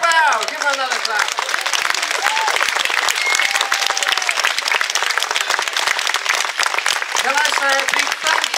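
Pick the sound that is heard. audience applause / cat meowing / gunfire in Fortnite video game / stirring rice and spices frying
audience applause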